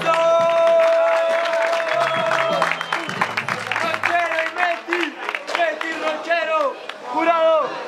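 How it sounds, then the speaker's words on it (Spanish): Crowd applause at a freestyle rap battle league event, with steady clapping and crowd noise throughout while voices carry on over it. "¡Aplausos!"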